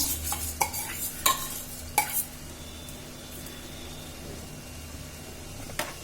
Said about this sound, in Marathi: आता याच्यामध्ये घालते तांदूळ